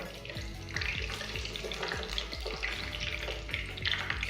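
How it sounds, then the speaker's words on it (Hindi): Vegetable cheese sandwiches frying on low heat in a pan, a soft steady sizzle with repeated low thumps and light clatter as they are pressed and turned, close and fairly quiet, no voices. "अब हम इसे दोनों तरफ से हल्की आंच पे अच्छी तरह से फ्राई करते हैं।"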